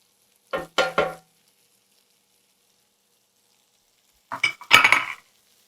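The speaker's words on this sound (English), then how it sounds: "I'm going to stir it around for a little bit." Garlic stirred in a soup pot for bacon cauliflower chowder gives two short bursts of utensil scraping and clatter, separated by a few seconds of silence, with no one speaking.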